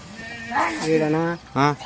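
A sheep bleats twice nearby, a longer wavering call followed by a short one.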